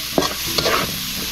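Sliced green chilies hit hot oil in a frying pan while cooking Bengali dudh mankochu, giving a close, steady sizzle with a couple of sharp bursts and light stirring scrapes.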